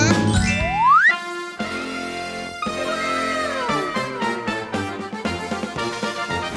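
Bright bell-like dings and tinkling chimes ring out over a busy musical background, with a rising glissando sweep at the start followed by repeated chime hits, loud and close in a children's channel outro.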